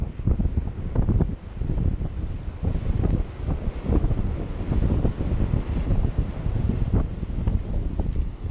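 Choppy ocean waves wash in on a beach, a continuous rough surf roar with wind buffeting the microphone throughout and no voices.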